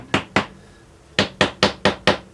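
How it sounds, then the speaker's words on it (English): A small hammer taps clamps holding the top and back plates of an acoustic guitar, two sharp knocks followed after a pause by five evenly spaced taps, close and crisp with no talking. "when I tighten these up, I'll take a little hammer and"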